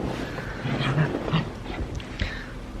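Dogs playing at home indoors: scuffling, huffs and low growling sounds come in irregular bursts, moderately loud and close, with no talk.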